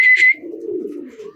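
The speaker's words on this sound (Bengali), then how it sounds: "ওই যে আরেকটা কবুতর যাইতেছে" A pigeon on a rooftop gives a short, close, clear call, followed by a soft, low cooing that trails off over about a second.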